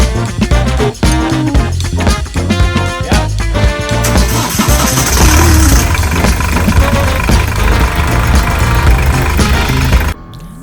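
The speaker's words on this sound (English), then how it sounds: "The engine started fine, but Cole noticed a clicking noise while it was running" Boat diesel engine running loud and close with a dense, continuous rumble and a rapid, steady clicking rhythm, cutting off abruptly near the end.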